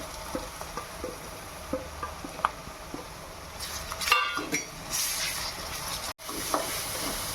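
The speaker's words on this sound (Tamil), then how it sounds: "வெங்காயம் வந்தோடனே இஞ்சி பூண்டு பேஸ்ட்டை போட்டுக்கலாம்" Onions with ginger garlic paste sauté in a pan for chicken gravy, a steady sizzle broken by light stirring scrapes, with a brief louder burst of frying partway through, close by and without speech.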